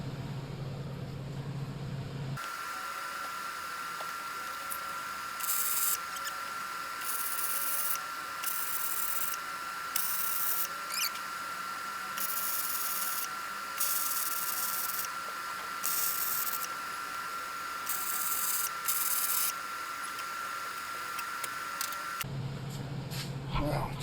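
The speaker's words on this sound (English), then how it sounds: "welding on aluminum float pods" Aluminum float pods being welded onto a jon boat, a steady buzzing arc with a constant high whine and crackle running for about twenty seconds, starting and stopping abruptly.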